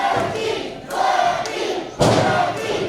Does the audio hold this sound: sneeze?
no